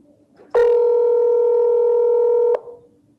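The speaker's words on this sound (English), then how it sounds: "So here goes the phone call." A single steady telephone tone sounds on an outgoing call, loud and close, holding for about two seconds before cutting off cleanly, with no voices.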